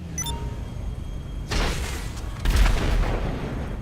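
Rocket explosions set off a drag race in Grand Theft Auto V. A short tone gives way to two booming blasts about a second apart, with rumbling noise after each.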